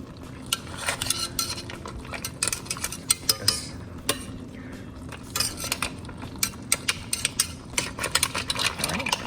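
Chunks of monkfish and clams get shifted around in a pot of New England seafood stew, with a spoon clinking and scraping against the metal pot in irregular bursts of close, fairly quiet clatter.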